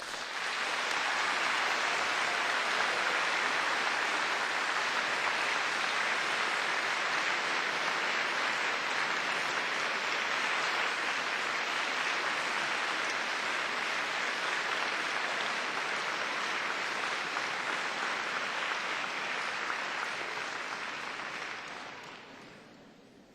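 A graduation crowd for nursing and midwifery graduates delivers a long, steady round of enthusiastic applause, a dense, even wash of clapping that holds for over twenty seconds before tapering off.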